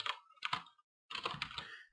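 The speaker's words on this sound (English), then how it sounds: "I'm not good at typing live." Quick bursts of keystrokes on a computer keyboard, two short clusters, a brief pause, then a longer run of rapid close-up typing with no talking.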